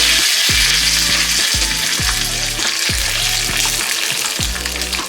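Curry leaves and Byadagi chillies crackle and sizzle loudly in hot oil, a close, continuous frying hiss with repeated sharp pops and spits throughout.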